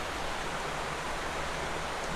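Castle Clough waterfall in Lancashire sounds as a steady, even roar from across boulders, continuous broadband rushing with no voices.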